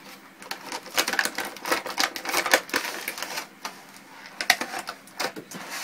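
Tiny loose screws rattle inside a shaken mini drone box for the Furibee H801, giving rapid, irregular clicking and clattering bursts that come close and moderately loud, with no voices.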